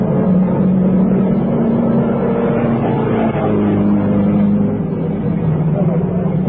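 Radio comedy sound effect of race cars in a big motor race, a steady roaring engine drone that holds loud and unbroken throughout, with a low rumble and no separate passes standing out.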